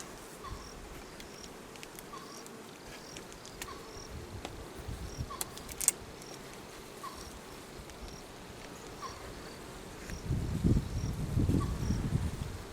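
A low, steady hum of honey bees in a hive fills the background, with faint repeating chirps and a rumbling thump of movement near the end.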